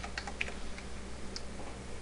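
Keys clicking on a computer keyboard while entering a virtual machine name during an Ubuntu 14.04.1 install in Oracle VirtualBox; scattered light taps, close and fairly quiet, with no talk.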